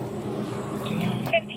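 A car engine idles with a steady, low rumble beneath close voices talking.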